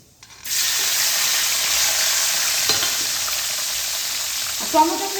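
Chopped medium tomatoes hit hot oil and spices for a vegetarian potato curry, setting off a steady loud sizzle and fry that runs throughout, with brief scraping stir noises near the end.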